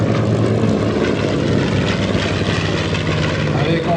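A B-25 bomber flying at the La Ferté-Alais air show, its loud propeller engines droning steadily overhead with a rough, throbbing roar while a voice talks over it.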